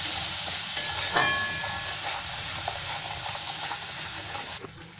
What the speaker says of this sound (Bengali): মশলার থেকে তেল ছেড়ে দিয়েছে, এবার আমি টমেটোটা দিয়ে দিলাম